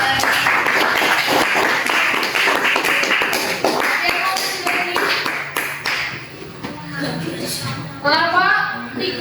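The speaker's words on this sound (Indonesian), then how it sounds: "tepuk tangan buat kelompok 2" A classroom of students applauds a student group. A loud burst of dense, rapid clapping fills the room, with voices chattering over it as it tapers.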